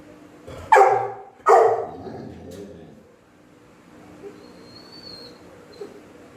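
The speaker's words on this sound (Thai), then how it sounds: "มีตัวเห่านะผมเรียกร้องความสนใจอยาก" Two loud, close dog barks in quick succession at the start from a dog waiting beside a mother dog about to give birth, followed by quiet room noise with faint small sounds.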